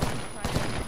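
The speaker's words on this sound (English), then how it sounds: "Somebody else shooting at me." Gunfire in the Apex Legends battle royale game, a dense run of rapid shots popping close by throughout, with faint voice underneath.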